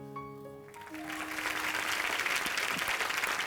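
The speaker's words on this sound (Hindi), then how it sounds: "एक बार रितेश और विवेक के लिए जोरदार तालियां।" A studio audience at a comedy talk show applauds for two guest actors. Sustained clapping swells up after a brief musical chord sting fades, then continues dense and steady, without talk.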